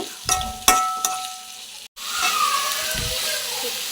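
Tomatoes and ginger sauté in a pan, a close, steady sizzle with a few sharp clatters of stirring early on, a brief dropout, then a fuller frying hiss with no talking.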